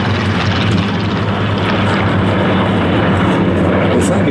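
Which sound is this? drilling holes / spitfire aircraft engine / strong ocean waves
spitfire aircraft engine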